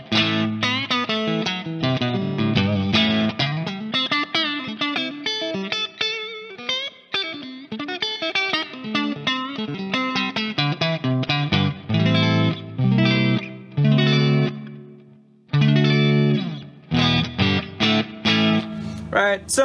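An electric guitar played through a tube amplifier built as a clean pedal-platform amp, master volume turned down, giving a full, mildly overdriven tone; steady close chords and riffs with brief pauses, no talk.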